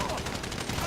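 Rapid gunfire in the GTA 5 video game, a short dense burst of shots heard close and moderately loud under game noise.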